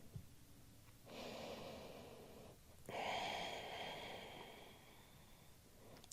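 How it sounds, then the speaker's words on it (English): Deep breathing held in a yoga cat pose, two slow long breaths, an inhale then a fuller exhale, close and soft with airy texture in a quiet room. "breathing deeply."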